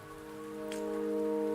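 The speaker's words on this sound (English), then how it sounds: "Don't worry, the rain won't last much longer." Steady rain in the video game Wuthering Waves, a dense, even patter on surfaces that swells slightly louder, heard alone.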